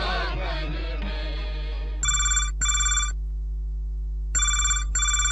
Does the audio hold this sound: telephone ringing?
yes